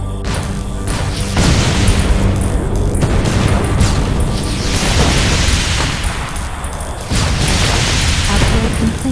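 Airstrike explosions in the tower defense video game Defense Zone 2: loud, dense booms and crashing bursts pile up continuously, with heavy low rumble and near-constant blasts for the whole stretch.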